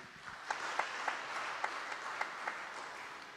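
Applause from a church congregation sounds fairly distant and soft, a steady wash of clapping with a few individual claps standing out at irregular intervals.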